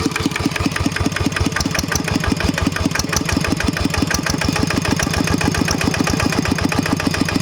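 A Kubota ET80 single-cylinder diesel tractor engine on an elephant-head chassis runs steadily close by, its loud, even thumping pulse repeating rapidly throughout with no talk.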